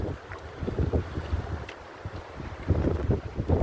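Strong wind buffets the microphone in uneven gusts at the shore of Carabao Island, with a low rumble and some splashing from seawater close by.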